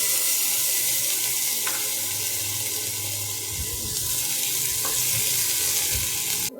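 Garlic and chili fry in a little oil in a pan beside vegetables for fried rice, making a loud, continuous hissing sizzle that holds steady from start to finish, with a couple of faint clinks.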